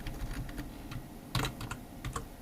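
Someone types on a computer keyboard, with soft, quiet irregular key clicks and one brief burst of faster taps, heard close and alone.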